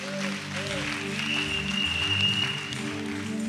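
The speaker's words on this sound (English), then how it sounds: "Clap for Jesus, is done" A church congregation claps and cheers during a Sunday service, steady applause under a loud music backing with a sustained tone, continuous for several seconds.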